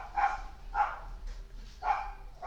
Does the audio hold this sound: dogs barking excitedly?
yes